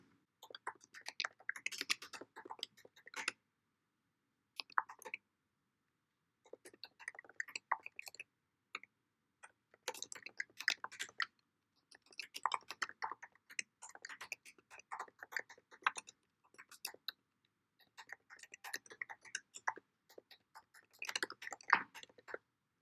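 Bursts of typing on a computer keyboard while editing a Jupyter notebook, rapid clicky keystrokes in irregular clusters with short pauses between, close and fairly quiet, no talking.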